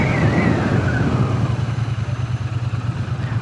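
A Triumph Bonneville T120 motorcycle braking hard from 60 km/h, heard as steady engine rumble and road noise that settles into a pulsing, lower idle-like throb as it slows.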